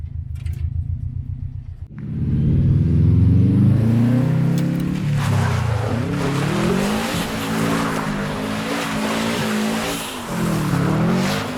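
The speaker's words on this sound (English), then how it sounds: "Four-wheel drive drift without brakes in this thing." Subaru GC8 RS-TI with a 100mm widebody drifting in four-wheel drive without brakes: the engine swells and revs hard as tires squeal in long, wavering howls, close and loud, with no talk over it.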